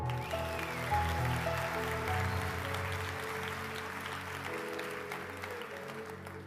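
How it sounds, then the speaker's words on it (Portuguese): Applause from an audience at a motivational talk, a fairly steady wash of clapping that holds through the whole stretch at moderate distance, with a low music bed underneath. "Quem pode aplaudir?"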